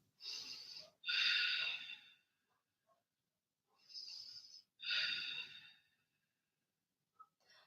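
Slow, deep breaths during a vinyasa yoga flow, two long airy inhale-exhale pairs, close and soft with hissing breath noise separated by quiet gaps.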